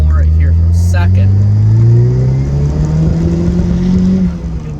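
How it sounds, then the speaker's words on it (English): A Pontiac Solstice GXP with a Stage 1 RPM tune is floored in third gear, its engine droning loud and steady as revs climb, with a misfire-like roughness and a brief voice early on. "So I'm going to floor it here for a second."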